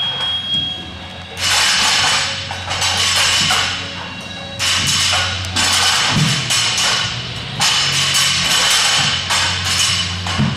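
Repeated heavy thuds from people doing box jumps in a gym workout, landing in bursts every second or two amid clattering and echoing room noise.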